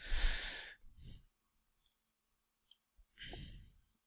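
Computer mouse clicks while working in accounting software on screen: a few sharp clicks come in two short clusters, near and quiet, separated by brief silent gaps.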